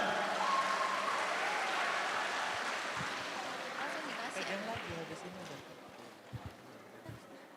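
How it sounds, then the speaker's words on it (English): Audience applause at an international agronursing conference swells loudly at first, then gradually thins and fades, leaving a few scattered claps near the end. "Give applause for Indah."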